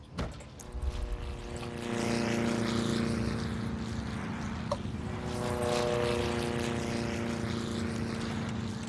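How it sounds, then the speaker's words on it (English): Propeller airplanes in the city-building game SimCity drone loudly and steadily with a layered engine hum throughout, holding a constant level with slight swells and no talk. "It's just the planes. That's the only thing that's so loud."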